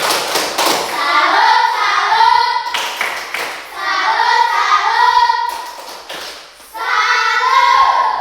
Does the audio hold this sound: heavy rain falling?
no